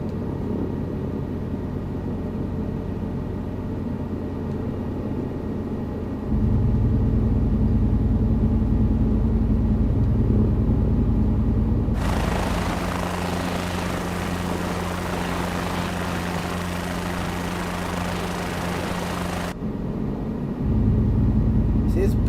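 A helicopter hovering at low altitude in Microsoft Flight Simulator 2024, a loud steady rotor and turbine drone that shifts in pitch and intensity partway through, continuous for the whole stretch.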